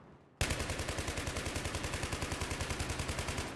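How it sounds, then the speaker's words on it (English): A USAS full-auto shotgun in a video game opens up after a short quiet moment, firing a rapid, evenly spaced string of about thirty loud, punchy blasts that continue to the end. "He's using the literal full auto shotgun to fucking USAS."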